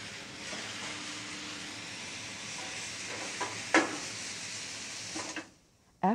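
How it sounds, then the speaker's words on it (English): Port wine hits a hot pan with liver, giving a steady, close hiss of deglazing steam that runs evenly and then cuts off near the end. "After the quick deglaze with port wine, the liver is set aside"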